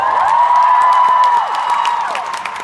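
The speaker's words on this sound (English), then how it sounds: "Huge round of applause for Jack and Dean" Crowd applause and cheering at a VidCon Europe 2017 panel as hosts take the stage, loud and steady with a whoop rising over the clapping before it eases slightly.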